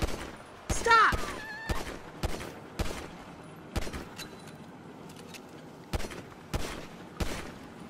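Gunfire in a cop-themed video game: a series of sharp, separate shots spaced irregularly over several seconds, each a loud crack, with one brief shout near the start.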